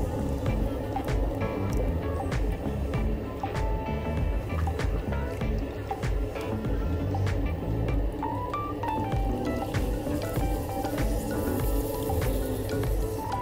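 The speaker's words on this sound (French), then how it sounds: "j'homogénéise la terre et j'enlève les bulles s'il y en a" Wet clay is centred at high speed on a spinning pottery wheel, giving a steady squishing, sloshing churn with scattered drips and clicks, close and continuous throughout.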